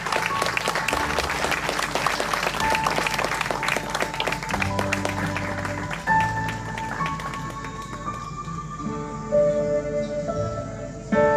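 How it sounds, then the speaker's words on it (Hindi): A congregation at a prayer meeting in Hazaribagh claps loudly for several seconds, a dense crowd applause that thins out toward the end as voices and music come in. "सब तालियां बजाएं जोर से"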